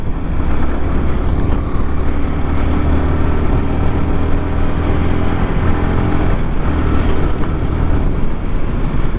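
A Yamaha R15 V4 155 cc motorcycle riding along a road, with steady engine drone and heavy wind rush buffeting the microphone throughout, loud and continuous.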